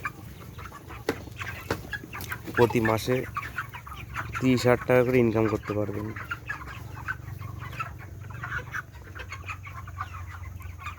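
Broiler chickens, some forty days old, cluck and call throughout on a poultry farm of about two thousand birds, with someone speaking over the steady flock noise.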